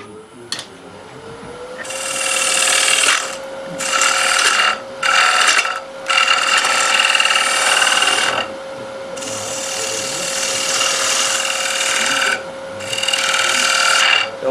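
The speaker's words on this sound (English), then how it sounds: "So what I'm doing now is just getting those beads off." Hand tool stripping beads off wood, a loud close rasping and scraping in repeated strokes of a second or more, with short gaps between and a steady faint hum underneath.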